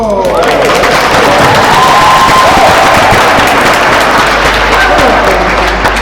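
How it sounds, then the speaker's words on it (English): Crowd cheering and applauding after a point in a real tennis doubles match, with the English pair trailing: loud, sustained clapping and shouting filling the space and holding steady for several seconds. "very pro-English crowd, as you might imagine, exhorting their boys to get this to a 5th set and maybe more"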